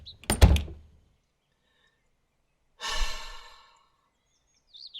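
A door slams shut with a single solid thunk after a loud sigh or breath, and a faint sound follows near the end.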